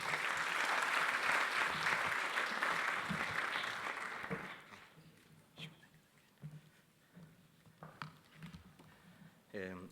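Dense applause fills a gala dinner hall for a few seconds, then thins into scattered claps and murmuring voices as the crowd settles, with a few isolated claps near the end.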